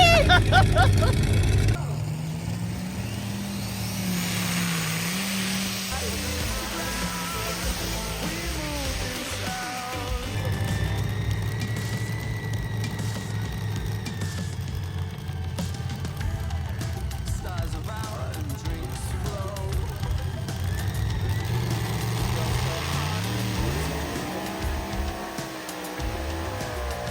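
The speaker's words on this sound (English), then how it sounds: "This is tractor pulling." Loud, sustained engine roar with shifting pitch as motors strain and rev, a steady mechanical drone running throughout with no talking.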